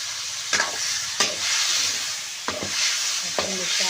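Drumstick pods go into a hot pan and sizzle with a continuous loud fry hiss, broken by a few sharp clinks and scrapes of stirring.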